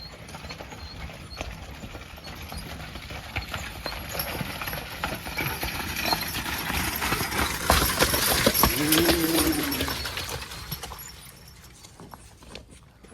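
A team of draft horses pulling a cart that drags a tire up a hill, hooves clip-clopping steadily and growing louder toward the middle, with harness jingle and a brief whinny-like tone.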